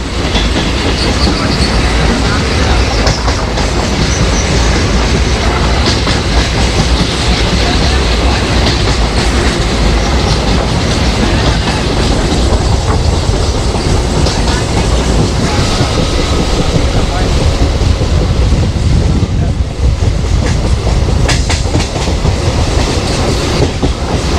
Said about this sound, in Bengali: ট্রেনটা একেবারে পুরো রাইট টাইমে চলছে, দারুণ আসছে।